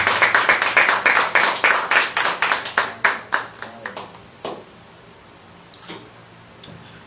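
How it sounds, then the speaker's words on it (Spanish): A church congregation claps in praise with a quick, rhythmic run of sharp, loud claps that gradually thins into scattered, fading claps with a few late isolated ones. "Dale palmas de alabanza."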